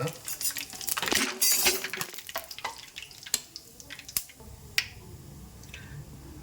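Mustard seeds crackling in hot oil for chicken masala, sharp close pops and snaps scattered irregularly over a steady sizzle, with a few louder isolated cracks near the end.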